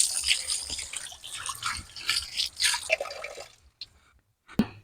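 Koi fish are rinsed by hand in water, sloshing and splashing in short bursts, then a brief pause and a final splash.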